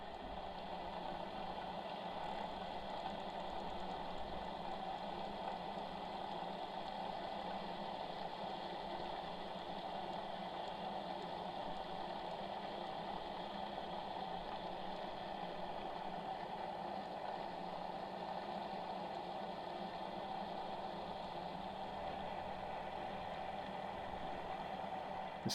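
A boat engine holds a steady 2500 RPM during an anchor pull test, a constant low droning hum that stays even and unbroken throughout, with no voices.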